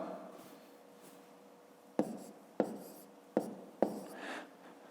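Numbers written by hand with a pen on paper during a fifth-grade maths exercise, a quiet rubbing scratch with four sharp strokes in quick succession, close and alone.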